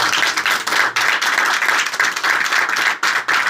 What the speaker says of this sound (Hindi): तो मैं चाहूँगा ज़ोरदार तालियां जोड़े के लिए